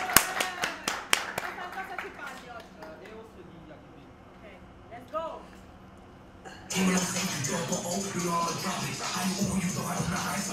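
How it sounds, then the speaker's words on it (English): A burst of quick hand claps opens, then quiets to scattered shuffling and faint voices before a crowd swells in loudly with cheering and noise, as if at a street dance battle between Italy and the UK. "Can I get an applause for Liliame?"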